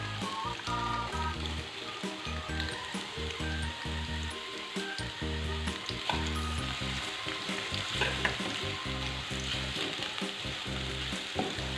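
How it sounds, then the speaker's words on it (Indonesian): Shallots, garlic and carrots frying in hot oil, a dense, continuous sizzle with stirring clatter and a steady rhythmic thumping beat running underneath, with no voices. "setelah minyaknya panas, masukin bawang merah sama bawang putih. Wangi, masukin wortel"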